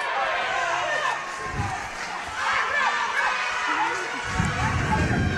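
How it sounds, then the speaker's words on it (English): Hudson home crowd at a girls hockey sectional final rink, a mass of voices cheering and shouting with rising swells, heard beneath an announcer's steady talk. "Hudson crowd getting into it"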